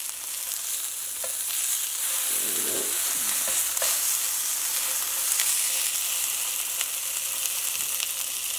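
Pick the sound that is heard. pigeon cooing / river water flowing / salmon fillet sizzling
salmon fillet sizzling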